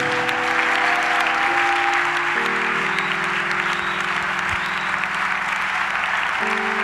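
A church congregation claps loudly and steadily throughout, with sustained keyboard or organ chords ringing beneath the applause.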